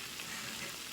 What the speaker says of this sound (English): Just move them around if you're using the cast iron.